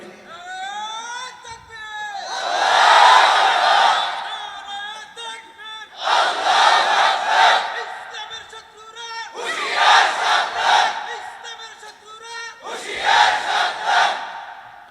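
A large crowd at an Islamic waz sermon shouts the takbir chant in four loud, forceful bursts, each swelling and fading, with brief quieter gaps between them.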